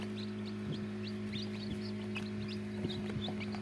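Tiger breed chickens cluck softly at a farm in Jamalpur, Bakshiganj, with a few faint clucks and chirps over a steady low electrical hum.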